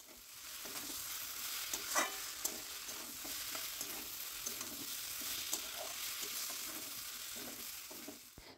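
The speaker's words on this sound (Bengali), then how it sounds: "এবার সয়াবিনের সাথে মশলাটাকে একটু ভালো করে কষে নিতে হবে।" Soybean chunks and potatoes stir-fry in spice masala, making a soft, steady sizzle broken by repeated scraping strokes of a spoon against the pan, with no speech.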